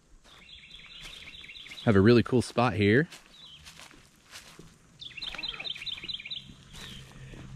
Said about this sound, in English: You hear the birds tweeting away.